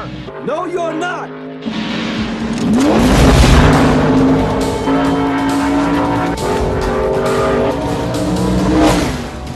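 A car accelerates hard with its engine revving loudly and tires squealing, the roar swelling and holding close by while voices talk over it.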